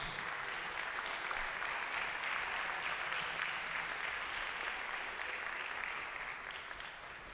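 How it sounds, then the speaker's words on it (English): A crowd at a college robotics competition applauds the competitors and their robots, a steady, fairly distant wash of clapping that softens near the end. "let's give a round of applause to all of our competitors and the robots"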